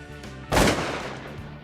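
A single loud shotgun blast from a duck hunt in Louisiana marsh, fired at pintails, cracks once and rings briefly, with no talk over it.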